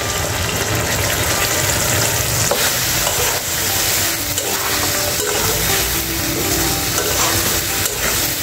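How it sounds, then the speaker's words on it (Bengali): Mustard paste stirred into a sizzling stalk curry of vegetable stems, a steady broadband fry with continuous scraping and stirring close up, loud and unbroken, with no voices. "এখন আমি দিয়ে দিব সর্ষে বাটা"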